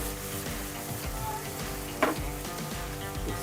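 Chicken in butter and harissa honey sizzles steadily in a hot pan, a soft continuous hiss with one brief scrape of stirring partway through, and no voices.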